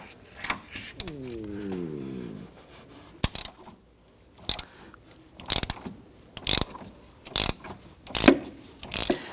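A hand ratchet with a 12mm socket and extension works loose a bolt on the thermostat housing clamp of a 2011-2015 Kia Sorento, giving close, sharp clicking bursts in uneven spurts with quiet pauses between.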